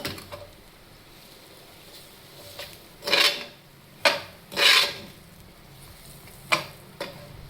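A spatula scrapes and stirs an Andhra-style bitter gourd fry in a pan: about half a dozen separate, close, rasping scrapes spaced irregularly over a quiet background.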